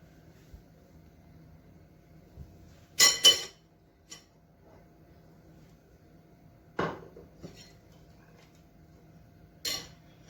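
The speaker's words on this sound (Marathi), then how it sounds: "यात आता मी बर्फ टाकणार आहे" Ice cubes drop into a glass being prepared for raw mango sherbet, with a quick cluster of clinks, then two more separate clinks later. The sound is close and crisp over a quiet background.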